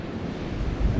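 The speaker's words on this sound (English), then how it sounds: "It's pretty windy up here today." Strong wind buffets the microphone on an open summit above the Connecticut River valley near Amherst, Massachusetts, a steady broadband rush with a louder gust near the end and no talking.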